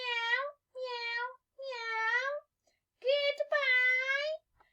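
A human voice imitates a cat, giving a series of drawn-out, nasal meows, about five in all, spaced by short silences, close and clear with no other sound.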